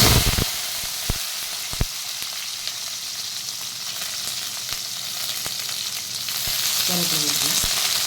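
Chilli and onions fry in a pan, giving a steady close sizzle and hiss throughout, with scattered sharp clicks and clatters of stirring and a louder sputter toward the end.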